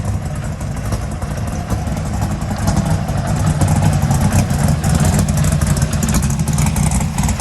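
A car engine with a not fully welded exhaust idles loudly nearby before a test drive, a steady low rumble that swells a little midway, with light mechanical clatter on top.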